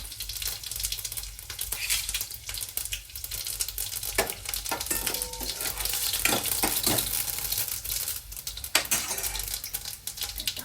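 Mustard seeds and garlic fry in hot oil with a steady, crackling sizzle throughout, broken by a few sharp clinks of a utensil against the pan.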